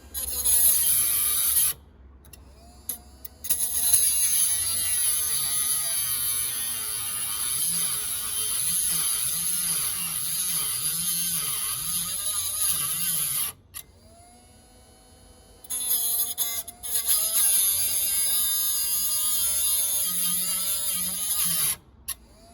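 A LYUWO mini angle grinder cutting at close range, a loud high-pitched whine with a wavering tone as it bites, briefly stopping twice before spinning up again.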